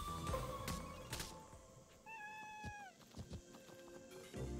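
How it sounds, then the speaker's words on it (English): Cat enemies in the video game CrossCode let out a quick run of clear, rising-and-falling meows, one prominent call in the middle, over busy game music and effects. "Why are these kitty cats so painful?"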